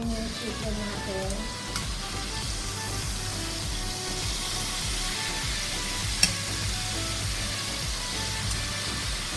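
Chicken breast fries in a pan with a steady, even sizzle that continues unbroken throughout, along with a faint tap or clink from turning the meat and soft background hiss.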